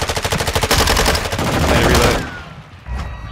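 Rapid SMG bursts crackle in a first-person shooter match, starting with a fast rhythmic volley, then a dense roar of overlapping shots that drops away, followed by one more loud burst near the end.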